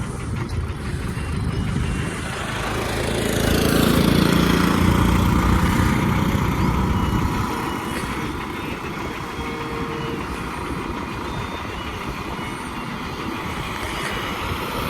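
A heavy truck engine drones steadily while the vehicle reverses, rising and swelling in the middle before settling back to a constant rumble with broadband noise, no talking heard.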